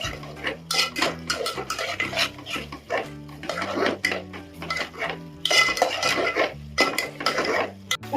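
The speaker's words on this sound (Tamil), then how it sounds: "தயிர் போட்டு நல்லா பச்சை வாசனை போகும் வரையும் நல்லா வதக்கணும்." Biryani masala with curd being sautéed in a pot for mutton biryani, heard as loud, close metal spoon scraping and clanking against the pot in busy irregular strokes, with a faint sizzle underneath.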